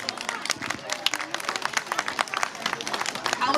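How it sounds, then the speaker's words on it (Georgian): Audience applause at a children's creative studio festival event in Poti, Georgia: a crowd clapping in a steady, moderately loud patter, with some voices and crowd noise mixed in. "აპლოდისმენტები."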